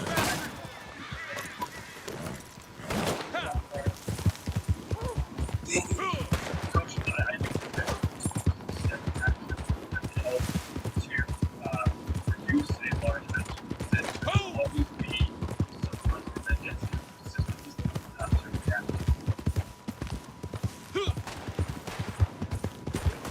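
Horse hooves clip-clopping in Red Dead Redemption 2, a steady rhythmic run of hoofbeats lasting the whole stretch, with other game sounds and faint voices mixed in.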